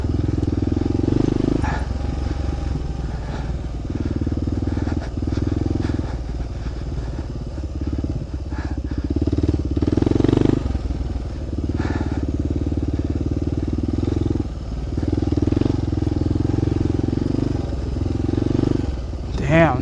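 A motorcycle rides along a sandy forest road, its engine droning steadily at close range with clatter and surges of throttle throughout, while someone talks over it.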